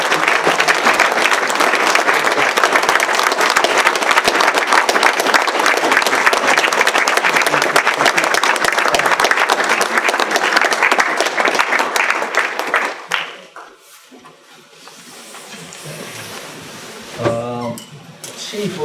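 Loud sustained applause from a municipal council meeting audience honoring the fire department, dense clapping for about thirteen seconds before fading out, followed by quieter room noise and a short voice.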